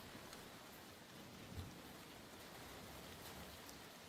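Steady, faint rain hisses continuously across a Call of Duty match map, broadband and even, with one soft low thump partway through.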